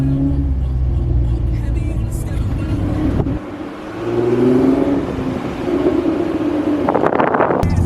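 Small go-kart engine revving hard toward redline, loud and close, with a brief drop in the middle before climbing again and a burst of crackling exhaust pops near the end; faint voices mix into the engine noise.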